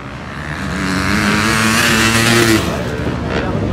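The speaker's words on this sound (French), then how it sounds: "la moto qui lui a servi au Dakar." Dakar rally motorcycle ridden past on a racing circuit at Saint-Brieuc, its engine note rising steadily to a loud close pass then fading slightly, with a steady tonal drone throughout.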